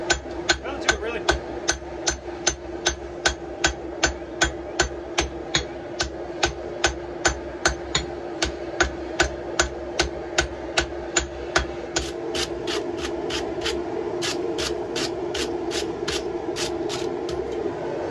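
Steady hammer blows forge a wrought iron camp axe at welding heat, ringing in an even rhythm of about two strikes per second for twelve seconds. Lighter, faster taps follow over a background hiss.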